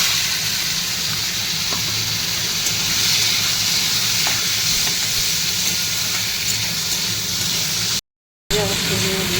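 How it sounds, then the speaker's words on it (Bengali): Prawns frying in hot oil with panch phoron give a steady, close sizzle and crackle that runs unbroken for several seconds, with only a brief cut near the end. "ফোড়নে দিতে হবে একটু পাঁচফোড়ন, দেবো একটু দিয়ে সঙ্গে এবার চিংড়ি মাছগুলোকে ভেজে"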